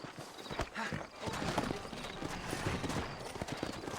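Steady clip-clop of horse hooves trotting in a quick rhythm in the video game Red Dead Redemption, moderately close, with no talking.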